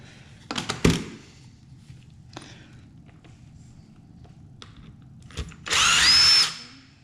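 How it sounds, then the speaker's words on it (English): Power drill whirs in one loud, sustained burst of about a second near the end, following scattered knocks and clatter of handling hardware while working on a Traxxas Maxx RC truck. "Back to my drill."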